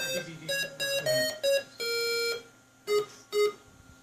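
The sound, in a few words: Commodore PET computer synth sound from VIA chip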